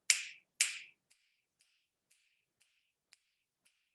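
Two loud, sharp finger snaps close together open the clip, followed by a string of faint, evenly spaced snaps or taps at about half-second intervals, with no speech.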